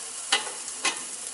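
An Uncrustables sandwich frying in butter in a pan, a soft steady sizzle with two brief louder crackling bursts, close and without voices.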